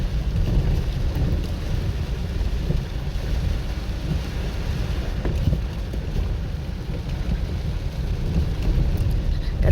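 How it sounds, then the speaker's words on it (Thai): Steady heavy rain pours down continuously with low rumbling thunder mixed in, dense and enveloping throughout with no voices. "ถ้ายามฝนก็จะประมาณนี้"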